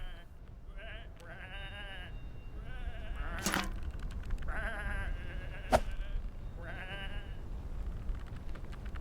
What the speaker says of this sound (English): these are just sheep